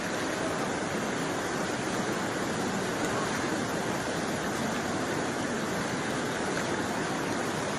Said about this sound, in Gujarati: પાણીનો પ્રવાહ બહુ છે